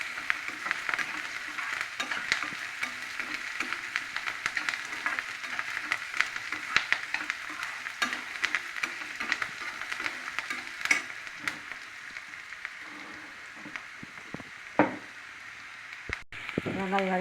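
Chopped onions sizzle in hot oil with mustard seeds and cumin, a steady close frying hiss broken by scraping stirs and occasional clinks, with no talking over it.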